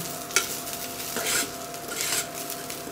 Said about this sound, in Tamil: நல்லா நெய்யில் இந்த மாதிரி கொஞ்சமாக ஊற்றி வதக்கிக்கோங்க